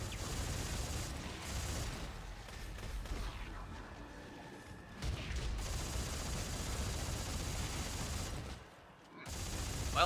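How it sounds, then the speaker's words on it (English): Sustained gunfire in the sci-fi horror game Dead Space 3, a dense, continuous barrage of shots with heavy low rumble, briefly dipping near the end before resuming loudly. "Shoot him"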